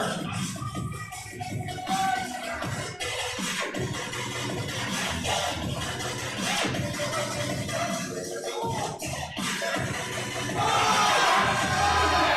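A crowd at a powerlifting meet cheers and shouts steadily as a lifter attempts a 628-pound third lift, swelling louder toward the end.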